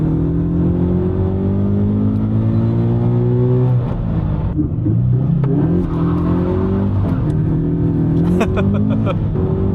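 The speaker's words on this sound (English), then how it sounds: "Let's take this gorgeous looking car out on the road and find out how it drives." Sports car, an 86, driven spiritedly on the road, engine pulling through rising revs with clear gear changes and renewed acceleration, loud and continuous from inside the cabin.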